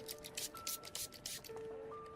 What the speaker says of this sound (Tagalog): Pero sprayan ko po ulit sandali ng alcohol bago niya isuot.